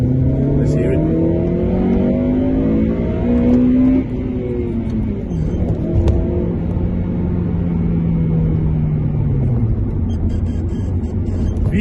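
A Honda Civic Type R FN2 running around 200 brake horsepower with VTEC revs hard. Its engine note rises and falls in loud sweeping pulls and a deep rumble, with no talk.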